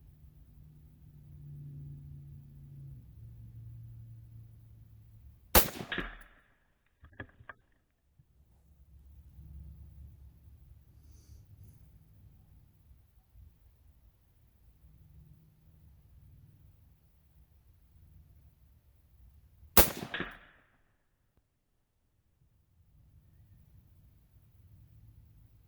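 Two sharp, loud gunshots from a BCA 6.5 Grendel rifle about fourteen seconds apart outdoors, each a sudden crack with a brief echoing tail, separated by low background rumble and faint murmuring.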